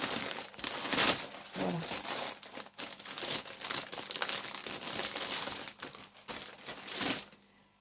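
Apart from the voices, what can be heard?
parcel packaging crinkling as it is opened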